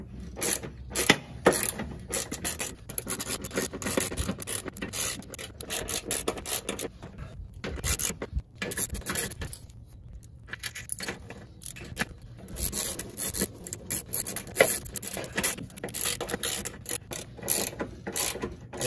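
A ratchet wrench clicks rapidly while tightening skid plate bolts on a Honda Ridgeline truck, with repeated bursts of metallic clicking and short pauses between them, close and fairly loud.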